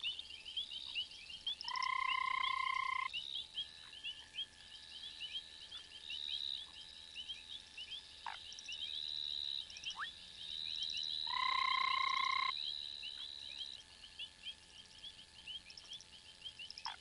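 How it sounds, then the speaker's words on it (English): Foam frogs in a tree over a pond give repeated, tonal croaking calls in short bursts, with a steady background chorus of insects or frogs running throughout. "In a tree over the pond, a pair of foam frogs are making their nest."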